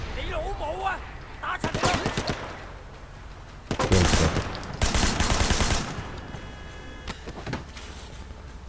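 Someone talks while a car in the video game Sleeping Dogs blows up in a couple of loud, booming bursts, with crackling debris trailing off.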